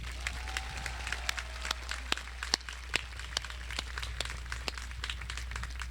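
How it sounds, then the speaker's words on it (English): Sustained applause from a graduation crowd honoring the Vero Beach High School Class of 2021, a steady patter of many clapping hands with sharper individual claps, moderately distant over a low hum. "Please give these outstanding students one more round of applause."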